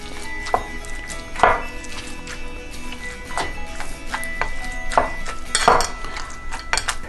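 Cooked cauliflower and potato being mashed with butter and milk in a pot, with repeated knocks and clinks of the masher against metal, some strokes louder than others, plus soft squelching between them.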